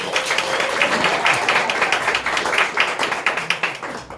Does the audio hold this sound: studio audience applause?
yes